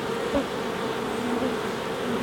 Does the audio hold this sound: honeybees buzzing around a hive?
yes